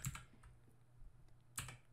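Quiet keystrokes on a computer keyboard while code is typed, a few soft close taps with one sharper burst of keys near the end, alone without speech.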